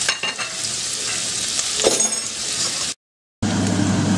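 Chopped garlic and half an onion sizzle and fry in a pan over lowered heat, a steady close hiss with occasional stirring clinks, cut by a brief silent gap before the frying resumes.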